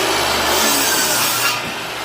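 A handheld power tool cuts through wood for a sign, giving a loud, steady buzzing rasp that eases off and fades over its last half-second.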